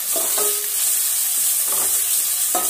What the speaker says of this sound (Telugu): పచ్చిమిర్చి ఉల్లిగడ్డ ముక్కలు కొంచెం ఎర్రబడేదాకా వేయించుకోవాలి